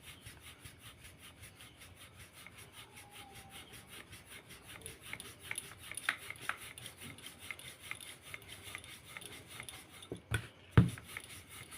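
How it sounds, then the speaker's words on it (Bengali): Potato paratha dough being rolled out with a rolling pin, a steady rhythmic rubbing and scraping that repeats back and forth close by, ending with a couple of sharper knocks. "এইভাবে সবগুলো বেলে নেব।"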